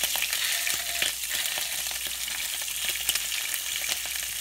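Rainbow trout fry in a hot pan, a steady close sizzle and crackle with scattered pops running without a break and no voices.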